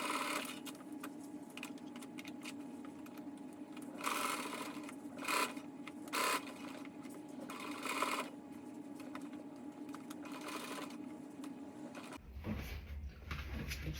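A sewing machine bastes a pocket onto the top of a tote bag with a steady, close mechanical whir. The stitching briefly surges and eases in places, then stops near the end with a clunk of handling.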